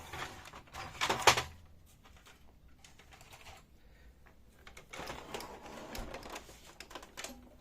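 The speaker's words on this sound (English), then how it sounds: "Now remove the paper tray." Plastic paper tray being pulled out of a Samsung M2675F laser printer, a short sharp scraping slide near the start followed by quieter clicks and rustling handling sounds close by.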